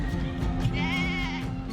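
A lamb kept by a Sudanese household for the Eid sacrifice bleats in one sustained, wavering cry, close and clear over a low background hum.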